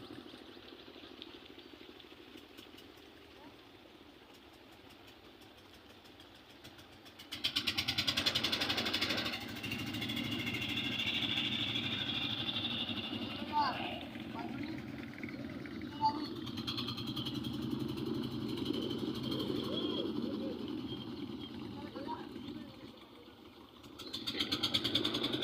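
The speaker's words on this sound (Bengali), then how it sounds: "সম্পূর্ণ নৌকা একসাথে স্টার্ট দিচ্ছে" Many river boat engines starting up together and settling into a loud, continuous idling chug that rises abruptly after a quieter stretch, with a voice heard faintly beneath.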